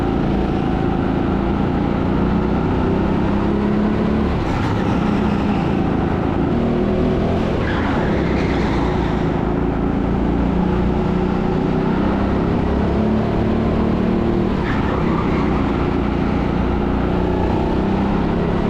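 Several small go-kart engines buzz and whine continuously at an indoor TeamSport Sheffield track, their pitch rising now and then as the karts accelerate, loud and close with no talking.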